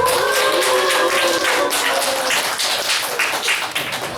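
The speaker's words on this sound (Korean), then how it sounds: "새신랑으로 박수 한번 주세요." A congregation gives steady, dense applause for a newly married groom during a church sermon, the clapping continuous and fairly loud across the whole stretch, with a faint tonal hum underneath.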